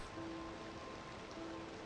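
Steady, even patter of rain in the city-building game Cities: Skylines 2, a soft continuous hiss of falling rain with faint brief tonal beeps, quiet and unbroken throughout.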